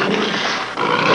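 A tiger gives a short, harsh roar, a loud gravelly burst that breaks briefly and then resumes, close and alone.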